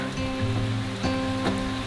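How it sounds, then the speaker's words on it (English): Rain falls steadily on a mountain, a dense close hiss of drops with a low rumbling undertone and faint periodic pattering. "The rain is back."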